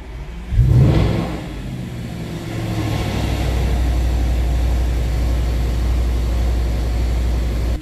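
An Audi RS5 engine cranks and fires with a sharp start-up roar, then settles into a loud, steady, deep idle rumble for several seconds, recorded close by with no voices.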